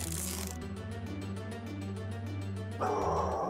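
A dog barks in the horror video game Poppy Playtime Chapter 3, its yaps set against a steady bed of game music and tones that grow louder near the end.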